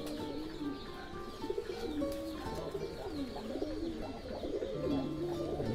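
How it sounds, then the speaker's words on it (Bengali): A female fighter pigeon coos in repeated low, rolling phrases close by, with other birds chirping faintly in the background and no talk. "এই যে আরেকটা মাদি কবুতর।"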